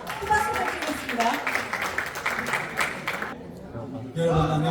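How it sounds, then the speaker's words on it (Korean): Audience applause greets a professor invited onto the stage at a Korean People Power Party rally, a steady wash of clapping that fades out before a voice begins addressing the crowd. "큰 박수 부탁드리겠습니다"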